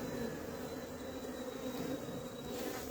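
A dense, constant buzz of many honeybees close by, a low drone with no pauses and no speech.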